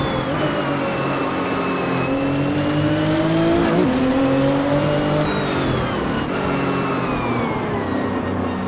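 A tuned 800 hp four-wheel-drive Porsche 911 Turbo driven fast, engine loud and continuous with rising and falling revs through gear changes and a brief tire squeal.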